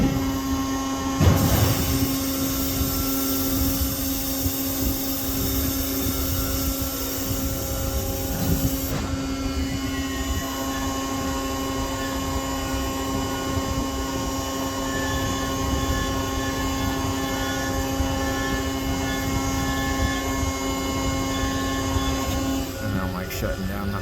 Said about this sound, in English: they're able to run the hydraulic system from the cockpit and do these gear swing tests